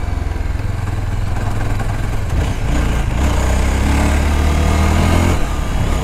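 Jawa Yezdi Scrambler motorcycle ridden in third gear, its engine droning loud and close with a low, throbbing exhaust that rises in pitch briefly as the bike pulls, heard alone without talk.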